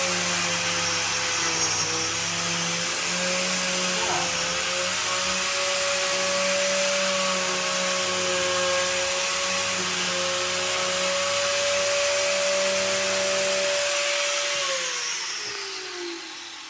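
An Arbortech power carving unit with a Turboplane blade carves wood in a steady, loud, continuous whine that drops slightly in pitch under load, then winds down at the end.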